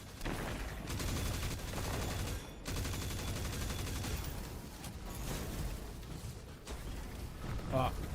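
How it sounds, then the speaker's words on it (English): Gunfire in the video game Destiny 2 as players shoot at blocks, steady rapid bursts continuing throughout with short pauses, fairly faint and mixed with other game noise. "Now we just gotta shoot the blocks."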